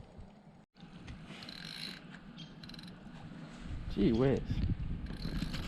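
A fishing reel ratchets and clicks close by while a largemouth bass is reeled in on a crankbait, with a man's brief exclamation and splashing water near the end.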